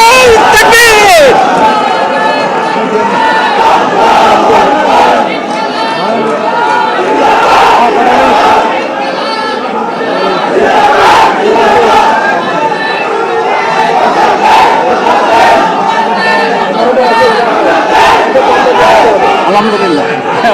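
A crowd at a Bangladeshi political alliance press conference answers a Naraye Takbir call with loud, sustained unison chanting and shouts, a dense roar of many voices lasting the whole stretch.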